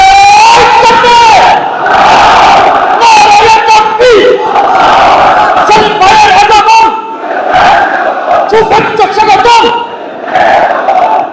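A large crowd chants slogans in unison at a Jamaat-e-Islami unit leaders' conference in Dhaka, loud rhythmic shouted call-and-response phrases repeating continuously with brief pauses between bursts.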